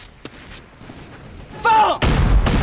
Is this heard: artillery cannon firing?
yes